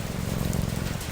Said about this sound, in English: the rhythm of the rain